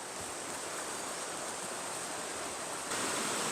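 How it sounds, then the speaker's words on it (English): Creek water rushes down from the falls at Amicalola Falls State Park, a steady broadband roar heard close and continuous, with no voices. "You can hear the water rushing down from the falls."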